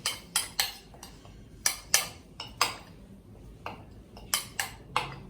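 Spoon clinking and scraping against a bowl as mung salad is tossed with mint leaves, a run of sharp, irregular metallic clicks with quiet gaps between them.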